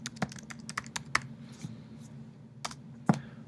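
Typing on a computer keyboard while using the Emacs text editor: scattered, irregular key clicks, some sharper strikes, close and fairly quiet over a low steady hum.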